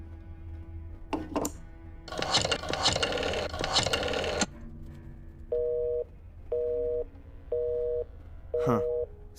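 Telephone busy signal in the Black Mirror II game, four evenly spaced beeping tones after a burst of clattering handset noise.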